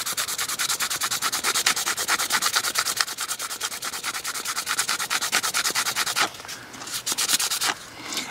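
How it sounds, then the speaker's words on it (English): Fine 2000 grit sandpaper rubs back and forth across a rusty old pocket knife in rapid, even strokes, loud and close, pausing briefly near the end before resuming, with no talking. "I was kind of afraid that this 2000 grit might be a little bit light, but I think it's doing just what I want."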